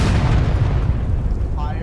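A Civil War reenactment artillery cannon fires with a loud, deep boom that rolls and rumbles steadily before easing off.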